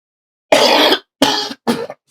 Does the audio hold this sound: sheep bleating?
no